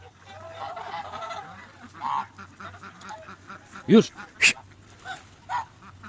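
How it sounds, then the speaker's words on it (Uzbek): A limping domestic waterfowl, a goose-like makiyon, gives a couple of loud, close honks amid ongoing talk and other faint bird calls. "Bu makiyon shekilli, makiyonga o'xshayapti."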